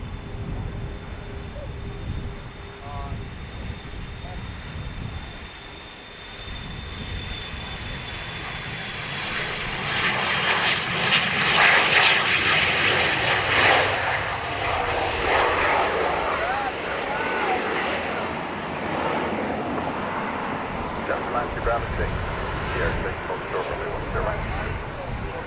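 A jet airplane takes off at Dublin Airport, its engine roar swelling from a distant rumble to a loud, broad blast before slowly fading, with people talking nearby.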